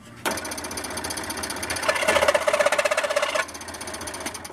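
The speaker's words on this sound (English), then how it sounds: "We'll go over here and cut this dowel." A power saw cuts through a wooden dowel for a Native American flute totem, starting abruptly with a loud, harsh, continuous buzzing whine that grows more intense midway, then eases slightly before the end.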